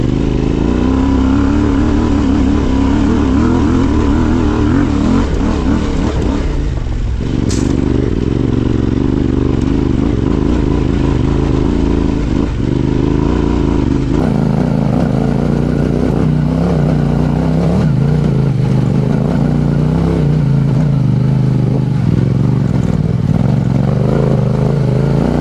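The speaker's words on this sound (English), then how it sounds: "what you're gonna see next is me riding this hill on my Tenere 700" Yamaha Tenere 700 adventure motorcycle climbing a hill, its engine loud and close throughout, revving and straining with throttle changes and occasional clattering over rough ground.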